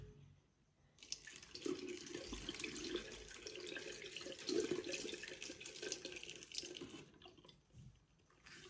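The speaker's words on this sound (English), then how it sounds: "And we're going to put the 100 milliliters of water." 100 millilitres of water pours steadily into a container for several seconds, splashing softly before the flow stops.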